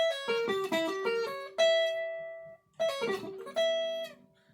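Clean electric guitar sweep-picks rapid diminished arpeggios in two bursts, each ending on a ringing held note, with a brief pause between them.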